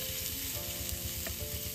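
Shredded cabbage with ginger and garlic fries in a pan for a chicken noodle soup, giving a steady close sizzle with a faint stirring scrape partway through and no voices.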